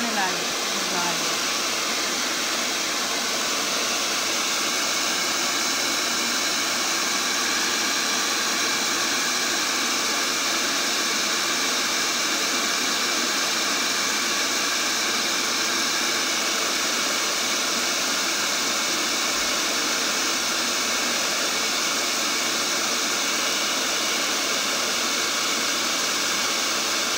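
A hair dryer blows steadily on wet black paint at a painting session, a loud, unbroken whooshing hiss that runs the whole time with no pauses.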